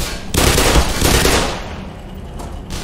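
Rapid gunfire bursts from a firefight in the video game Black Mesa, dense and loud at first, then easing into a quieter rumble before a brief final burst.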